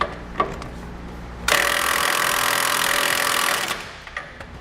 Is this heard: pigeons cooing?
no